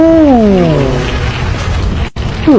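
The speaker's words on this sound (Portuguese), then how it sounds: "antes de sair, obviamente eu parei pra ver a explosão" Bombs detonate in the zombie game Dying Light, a loud booming explosion with a falling, rumbling roar that fades over a couple of seconds before a sudden cut.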